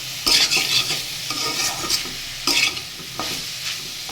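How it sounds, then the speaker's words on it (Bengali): Leafy greens being cut and stirred in a hot frying pan among mixed vegetables, with a steady sizzle broken by several sharp scraping and tapping strokes of a utensil against the pan. "তাই আমি একটু খুঁজে দিয়ে এভাবে করে শাকটা একটু কেটে কেটে দেবো।"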